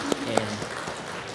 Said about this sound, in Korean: 이렇게 한번 우리 박수로 우리 환영의 인사하겠습니다